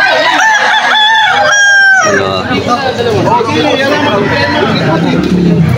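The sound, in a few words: stag gamecock rooster crowing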